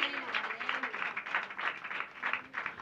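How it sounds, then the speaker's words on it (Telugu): A church congregation claps together in a steady, rhythmic wash of many hands, moderately loud and continuous for a few seconds, with a voice faintly under it. "చప్పట్లు కొట్టాలి బిగ్గరగా."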